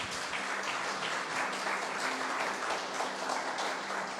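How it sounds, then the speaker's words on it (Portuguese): A congregation applauds during a church celebration service, dense clapping that carries on for several seconds with a faint murmur of voices underneath. "Dê um aplauso ao Senhor Jesus"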